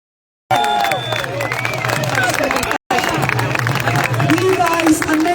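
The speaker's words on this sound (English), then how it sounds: "So I want to give a round of applause to all of the independent journalists here" Rally crowd in London clapping and cheering: a dense, continuous roar of outdoor applause with shouting voices rising through it, broken by one brief cut midway.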